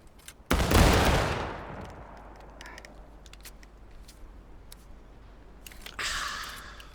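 A front rank of Civil War-era muskets fires a volley in War of Rights, one loud close crack followed by a long decaying rumble, then scattered distant shots and a later burst of echoing fire.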